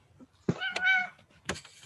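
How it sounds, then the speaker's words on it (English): A house cat meows twice close by, a drawn-out cry followed by a shorter one, against a quiet background. "I have a cat and it's behaving crazy"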